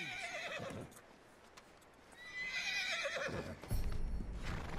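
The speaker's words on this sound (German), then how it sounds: "Das Pferd beruhigen." A horse in the snowy wilderness of Red Dead Redemption 2 neighs in a long, falling whinny, then gives a second louder, shaky neigh with clopping hooves close by, no talk over it.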